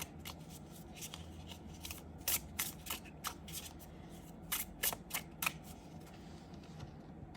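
Playing cards are shuffled in quick riffles, bursts of rapid flicking clicks that come and go over several seconds, close and fairly quiet.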